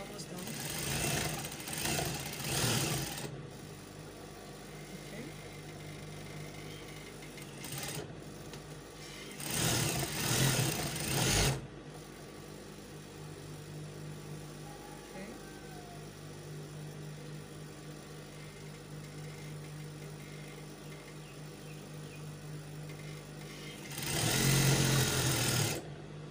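A sewing machine stitches fabric for a kaftan dress in short bursts, its rapid buzzing run starting and stopping several times with quieter pauses between, loud and close against a steady low hum.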